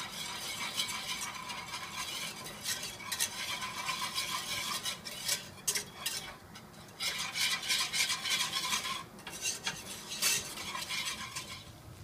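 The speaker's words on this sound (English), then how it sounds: "So we got the butter melted. Then I'll add in the flour. To make a roux is equal parts fat flour." A utensil scrapes and stirs steadily around a pan as flour is worked into melted butter for a roux for savory gravy, with soft frying hiss underneath, close and continuous, with no talk.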